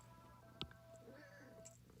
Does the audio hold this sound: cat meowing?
yes